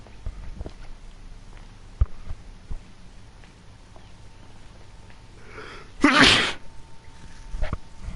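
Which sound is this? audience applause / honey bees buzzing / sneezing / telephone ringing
sneezing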